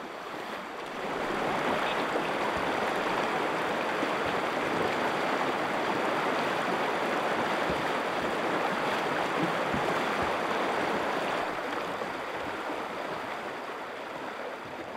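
A small river, narrowing as it is followed upstream, flows in a steady broadband rush with no talk, fading in during the first second and holding an even, close, continuous wash to the end.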